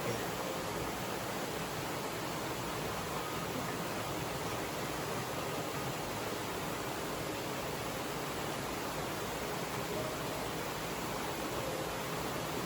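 Steady, dense rush of a waterfall on a Tennessee river, a constant broadband roar holding at an even level throughout with no voices.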